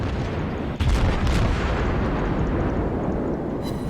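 Naval guns boom in a World of Warships battle near a ship that has run aground, a sharp blast followed by a second heavy rumble over dense continuous game noise, with no talk.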